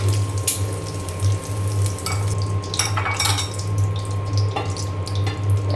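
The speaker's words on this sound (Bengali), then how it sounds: "ডিমটা ভাজা হয়ে গিয়েছে, আমি এখন উঠিয়ে নেব" Kitchen clatter of a fried egg being lifted out of an oiled pan, with metal utensil scrapes and pan knocks over a steady background hum, no voices.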